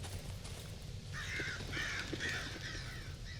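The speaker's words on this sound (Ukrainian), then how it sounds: "ворони злетіли, вони десь на трупі сиділи" Crows caw and take off in the horror video game Darkwood, a few harsh caws at moderate distance over a low rumbling ambient drone, without talk.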